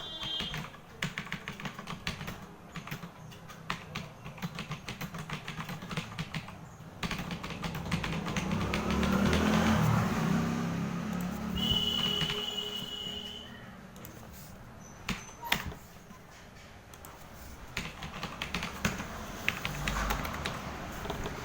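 Typing on a computer keyboard while entering a full address into an online job application form, a steady run of light clicks and taps with a low background hum and occasional louder knocks.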